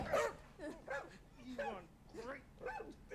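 Dog whimpers and whines from the Wolfenstein II: The New Colossus video game, a run of five or six short rising yelps at steady intervals, fairly faint and alone.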